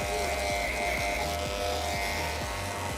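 Electric hair clippers fitted with a 2 inch guard cut hair in a close, constant buzz, with a rhythmic pulsing of the strokes repeating roughly every half second.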